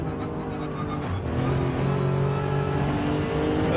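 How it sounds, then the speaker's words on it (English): A race car in Gran Turismo 7 downshifts, its engine blipping through quick throttle bursts before settling into a loud, steady mechanical drone, close and without talk. "Are you doing the downshifts like this?"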